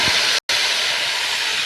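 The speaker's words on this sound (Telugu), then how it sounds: "ఇప్పుడు వేయించుకుందాం. గుడ్లు వేయించుకుంటున్నాం." Boiled eggs frying in hot oil make a loud, dense, steady sizzling hiss, close up, broken by one brief silent gap.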